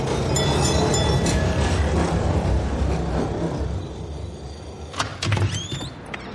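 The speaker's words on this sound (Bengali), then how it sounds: "সার্কুলার রোডের ট্রাম এসে সামনে দাঁড়িয়েছিল।" For an audio drama, a tram on Circular Road arrives with a loud rumbling roll that fades as it comes to a halt, followed by a few brief clanks and a squeal as it stops.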